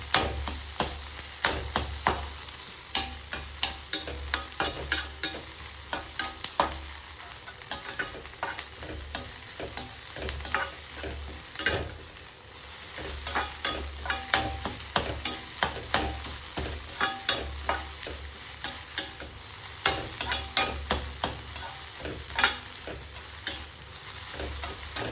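Egg fry sizzling in a pan while it is stirred, with repeated sharp scraping and clinking strokes over a steady frying hiss, close and continuous throughout.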